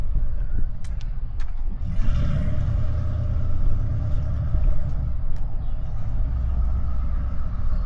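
An E-85 Ford Mustang driving along a street, a steady low engine rumble heard from outside the car, moderately close and continuous, with a few faint clicks over it.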